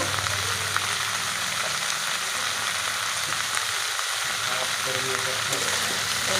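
Yardlong beans sizzle in white oil in a pan after salt is added, with a continuous close frying hiss and occasional stirring scrapes running steadily the whole time.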